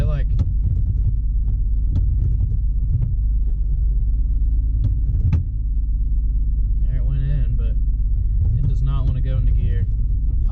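A Mitsubishi VR4 car with a freshly adjusted, bled clutch pulls away from a standstill on a street, its engine a steady low rumble and hum throughout. It sits close and constant, with brief voice-like bursts and a slight dip partway through.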